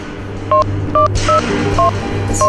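A telephone number is dialed on a keypad, five short, loud, evenly spaced touch-tone beeps in quick succession, close and clear over a faint hum.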